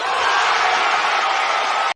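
A basketball arena crowd roars in a sustained, broad wash of cheering for Isaac Okoro, loud and even for about two seconds before cutting off abruptly.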